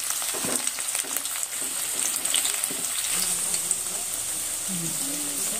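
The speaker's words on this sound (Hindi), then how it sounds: "और ये कढ़ाई में तेल डाल दिए हैं। प्याज और मिर्ची को डाल दिए हैं तड़के में।" Onion and chili sizzle in hot oil in a kadai for a tadka, a continuous close crackling fry with occasional pops and stirring knocks, and a voice briefly audible near the end.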